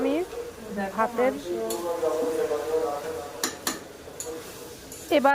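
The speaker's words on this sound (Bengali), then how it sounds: "আর মাংসটা কিন্তু ভালোভাবে কষিয়ে কষিয়ে নিয়ে রান্নাটা করব।" Mutton sautéed and stirred in a pot for biryani, a soft sizzle with scraping and metallic spoon clinks against the pot under a woman's speech, with sharper clanks near the end.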